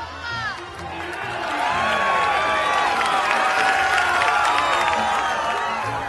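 A cheering crowd greets Homer and Bart in a Simpsons-themed radio play, a loud continuous swell of shouts, whistles and applause that builds after the first second and stays dense and close throughout.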